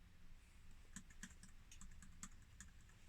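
Keystrokes on the PC-1, a compact all-in-one keyboard computer, clatter in an irregular run of light clicks at close range over a steady background hiss, with no voices.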